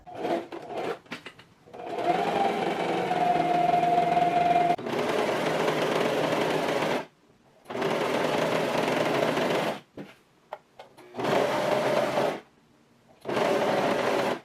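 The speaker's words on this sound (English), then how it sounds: "Then I will serge each of the side seams" A serger sewing machine stitches the side seams of a bias-cut maxi skirt in several bursts of rapid, close buzzing, each run lasting a few seconds and separated by short quiet pauses.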